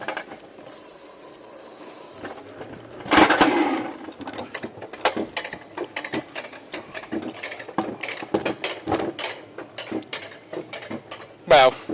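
A small alpine coaster in a lake region clanks and rattles with repeated mechanical knocks and ratcheting bursts as the ride gets underway, with a voice briefly heard among the noise.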